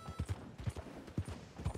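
Hooves clip-clop at a brisk, even walking pace on firm ground in the Red Dead Redemption 2 video game, a steady run of soft, muffled hoofbeats heard fairly quietly.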